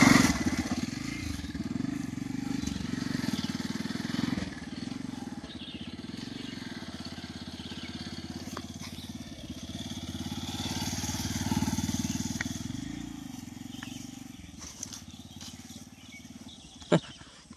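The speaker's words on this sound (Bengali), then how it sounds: "তো দেখি বাইক চালিয়ে কেমন লাগে" A motorcycle rides through the forest near Joypur, its engine droning steadily and close for the whole stretch, with small surges and a couple of sharp clicks near the end; no one speaks.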